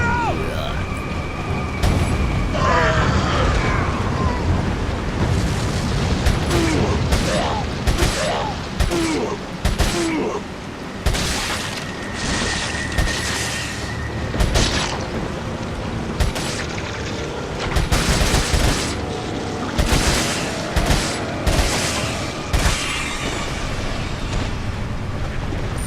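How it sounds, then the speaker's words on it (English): Gunfire bursts ring out while shooting explosive barrels on a wagon in Resident Evil 4, with loud repeated shots, mechanical clatter and game ambience, and voices calling out now and then. "Shoot those barrels on that wagon!"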